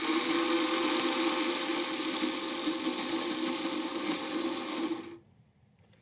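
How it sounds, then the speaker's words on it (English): A small robot's electric motor spins with a steady, loud mechanical whir for about five seconds, then cuts off abruptly, leaving near silence and a final faint click. "the motor should turn on and spin for 5 seconds"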